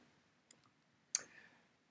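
A computer mouse clicks faintly twice in a quiet room, a light tick followed by a sharper, slightly louder click.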